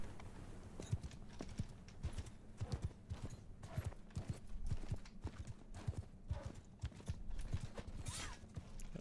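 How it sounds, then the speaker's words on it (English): Charging horse archers in Mount & Blade, a steady patter of many hooves clip-clopping in quick, uneven rhythm at moderate distance, fairly faint, with no talk over it. "here come the horse archers again"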